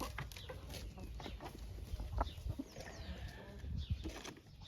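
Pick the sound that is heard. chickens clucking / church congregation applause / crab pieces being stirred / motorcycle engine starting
chickens clucking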